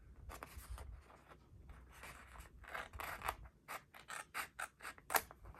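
Close scissors snipping through paper, with quiet rustling at first and then a run of crisp, evenly spaced cuts toward the end.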